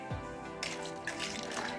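Fried phulki dumplings are dropped into a bowl of water to soak, with close splashing and sloshing, a plop near the start and brief swirling, watery bursts afterward.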